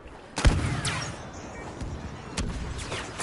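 An infantry turret fires in a Star Wars video game, with a couple of sharp blasts standing out over a busy rumble of game noise and no speech.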